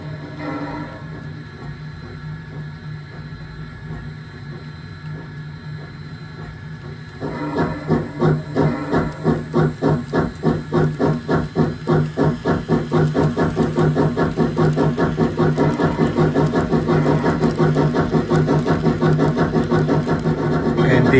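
Kato model train steam sound card producing a hissing idle that switches at about seven seconds into loud, rhythmic chuffing, the beats steady and then quickening slightly as the small locomotive accelerates.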